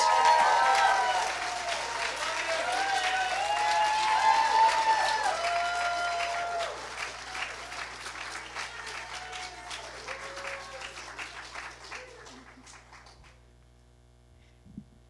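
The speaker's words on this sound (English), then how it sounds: "give me and her and everyone here a big round of applause" At a UCLA commencement ceremony, an indoor audience applauds warmly. The dense clapping holds steady, then gradually thins and dies away to a quiet room hum, with some whoops and voices mixed into the crowd.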